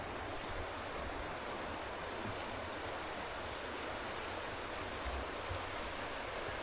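A rushing river runs high and turbulent, filling the scene with a dense, constant roar of water at steady loudness, with no voices over it.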